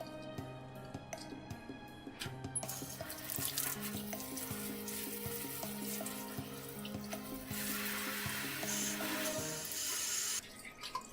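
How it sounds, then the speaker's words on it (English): Tap water runs steadily into a sink while a mackerel is rinsed and brushed clean of blood, with a continuous hiss interrupted by a few light knocks and clatters and no talking. "under running water with a brush, we're going to clean out the blood."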